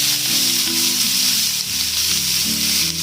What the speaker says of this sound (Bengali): গ্যাসের ফ্লেমটাকে একদম লো রেখে আমি পেঁয়াজটাকে একটু লালচে করে ভেজে নেব।